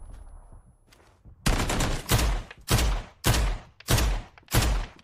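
Gun in the video game PUBG firing in six sharp, evenly spaced bursts, each loud with a punchy low thump and a quick decay, after a few faint softer sounds.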